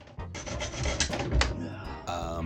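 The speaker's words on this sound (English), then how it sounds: "Who doesn't love a relaxing afternoon of hacksawing with a tiny little hacksaw?" Small hacksaw cutting aboard a boat, a close rasping stroke sound with uneven rhythm, moderately loud and heard alone without talk.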